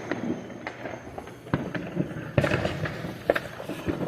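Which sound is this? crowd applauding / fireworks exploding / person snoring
fireworks exploding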